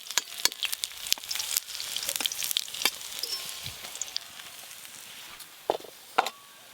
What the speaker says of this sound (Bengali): লাউয়ের বড়া ভাজা তো আপনারা দেখলেন।